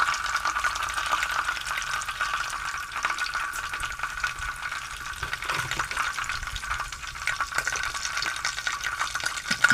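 Garlic paste and cumin seeds, added after mustard seeds, fry in hot oil in a pan with a steady, close hiss of sizzling and faint crackle throughout.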